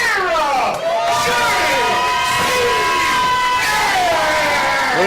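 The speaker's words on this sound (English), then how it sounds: "What an ovation." Wrestling crowd roars in a sustained ovation for a returning luchador, a dense wall of cheering and shouting with whistles rising and falling, loud and continuous throughout, with commentary voices running over it.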